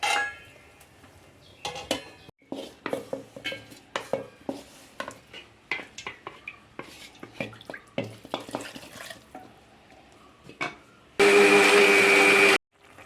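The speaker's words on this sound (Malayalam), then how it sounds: "ഇനി ഇത് വേവുമ്പോഴേക്ക് നമുക്ക് തേങ്ങ നമ്മുടെ അരച്ചെടുക്കാം" A mixer grinder whirs loudly for about a second and a half, grinding coconut for an ash gourd masala curry, after a stretch of scattered kitchen clinks and taps.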